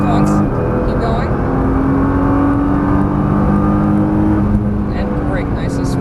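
A Nissan GTR on a track pulls hard at full throttle, its engine a loud steady roar that climbs gradually in pitch and holds close and constant from start to finish.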